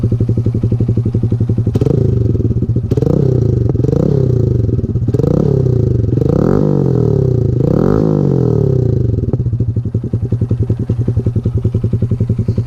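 A 2019 Honda MSX125 single-cylinder exhaust thumping steadily at idle, then blipped through a series of quick revs that rise and fall, before settling back to a loud, close idle chug.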